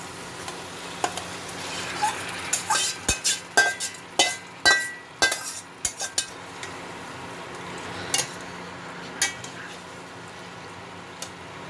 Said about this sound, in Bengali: এবার আমি চিকেনটা দিয়ে দেবো।